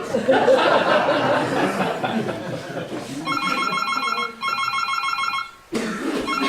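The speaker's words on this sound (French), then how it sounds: "Téléphone!" A telephone rings in repeated electronic bursts with brief pauses, following voices and some laughter in a comedy sketch.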